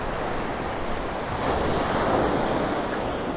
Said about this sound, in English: here we go on the beach, coming down there with the pier and the sea